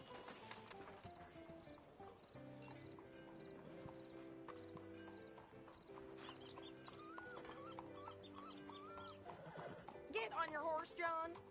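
A horse in the Western video game Red Dead Redemption 2 gives a brief neigh near the end, with hoof clip-clops and a music score underneath throughout.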